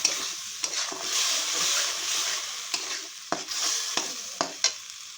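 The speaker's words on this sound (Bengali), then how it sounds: "চিংড়ি মাছ আমার ভাজা হয়ে গেছে, এখন মশলাটা দিয়ে দেবো।" Fried shrimp are tossed in a pan with a paste of ground chili, ginger and cumin for a shrimp and cauliflower curry, giving a steady sizzle broken by sharp stirring scrapes and knocks close by.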